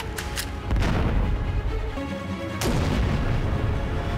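An M16A2 service rifle fires two loud, booming shots a couple of seconds apart, each leaving a long rumbling echo that hangs in the air.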